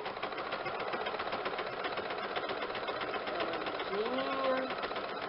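A sewing machine stitches a seam slowly on a fabric bread holder, its steady close mechanical whirring running throughout while someone speaks over it.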